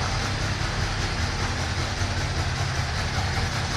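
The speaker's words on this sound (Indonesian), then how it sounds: "sekarang kita manasin si Subaru WRX STI hatchback manual AWD pastinya, dan turbo" Subaru WRX STI hatchback with a manual gearbox, AWD and a turbocharged engine warming up at idle, a steady loud close burbling drone with an even low pulse throughout.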